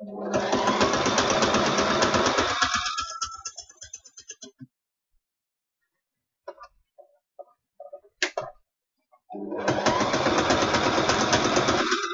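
A sewing machine runs in two loud continuous bursts with quieter clicks and handling noises between them, close by and with no talk.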